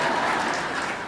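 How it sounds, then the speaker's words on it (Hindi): Audience applause at a spiritual discourse gathering in Baramati, a dense wash of clapping filling the short moment at steady loudness with no voices over it. "ताली बजा दो जरा"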